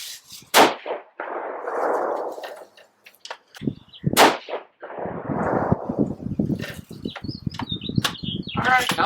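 A Savage 110 Tactical 6.5 Creedmoor rifle firing 130-grain bullets outdoors, two loud, sharp, widely spaced shots, each followed by a brief rumbling echo, with rustling handling noise in between.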